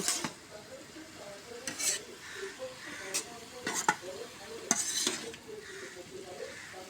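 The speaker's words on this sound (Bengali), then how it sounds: "হলুদ লবণ মরিচ এরা সব একবারে মিক্স করে দেয় সুন্দর করে" Potatoes tossed with turmeric, salt and chili in a pan, stirred in repeated scraping strokes with spoon clinks over a steady low sizzle, close and moderately loud.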